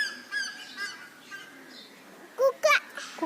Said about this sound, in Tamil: அது குக்கு இல்லை, கோழி.